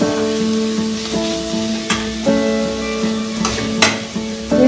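Sugar fries in a pan over low heat for takhti pitha, a steady sizzle under clinking, scraping stirs with a few sharp metallic knocks and a low background hum, close by and with no talk.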